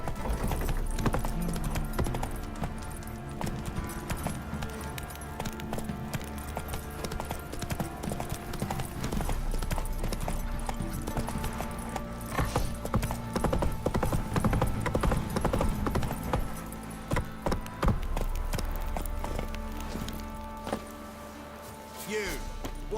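Roach, the horse in The Witcher 3: Wild Hunt on PS5, gallops in a steady run of clip-clopping hooves that continues for a long stretch, with game music or ambience beneath and a voice speaking at times.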